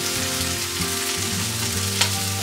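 Striped bass fillets pan frying in a hot cast iron skillet: a steady, loud, close sizzle with constant hiss throughout and a single sharp crackle near the end, no voices.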